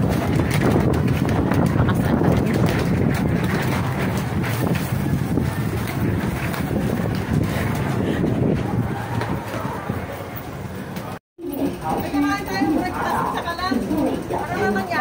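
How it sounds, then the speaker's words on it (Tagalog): Strong typhoon wind outdoors roars and buffets the microphone in a continuous gusty rush, with people talking over it and a brief dropout near the end. "Hangin sa labas. Grabe as in."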